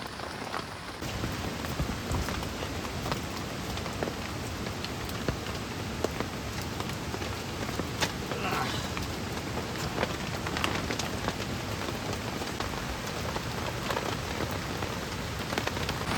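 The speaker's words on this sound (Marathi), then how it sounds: "पावसात बेहाल." Steady rain pours down at Fansad Dam during a cold, windy outing, a dense continuous hiss of drops hitting surfaces with occasional sharper splashes, constant and fairly loud throughout with no voices.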